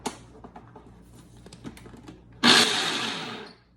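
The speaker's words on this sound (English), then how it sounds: "put them in the food processor 1 or 2 at a time and just give it a little pulse each time to get everything mixed up" A food processor mixing pie crust ingredients, with light tapping at first and then one loud whirring pulse of about a second that stops abruptly, close by.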